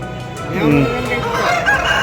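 A rooster crows loudly over a busy outdoor crowd at a weekly rooster market in Pedana, Krishna District, a drawn-out call rising and falling amid background chatter.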